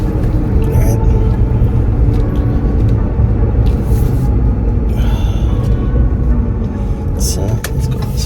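A 2022 Honda Grom motorcycle idles just after a cold start, a low, steady engine rumble close by that stays even throughout, with someone talking quietly over it.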